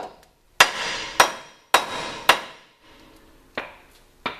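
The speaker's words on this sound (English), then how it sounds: "Give it a couple taps and then get the jack back under here." Several sharp hammer blows strike a stud during truck reassembly, each a loud close metallic crack with a short ringing decay, spaced roughly half a second apart with a brief pause before two final taps.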